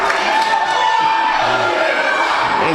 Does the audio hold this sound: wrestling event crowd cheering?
yes